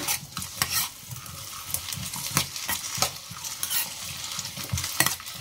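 Green chillies and raw mango frying in a pan for mango tokku, with soft sizzling under repeated scraping strokes of a spatula, close and fairly loud, no voices.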